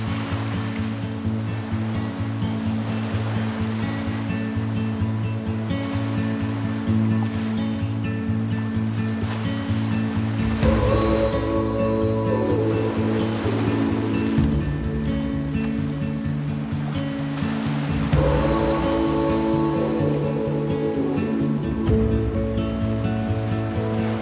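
Ocean waves washing onto the shore at Barcelona, a continuous surging roar that swells into louder breaking surges around the middle and again later, with no voices.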